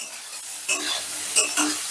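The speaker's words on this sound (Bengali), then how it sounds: "আমি সোয়াবিনগুলোকে বেশ লাল লাল করে ভেজে নেব" Soya chunks fry in hot oil with salt and turmeric, giving a steady close sizzle with a few louder stirring scrapes and crackles, no voices.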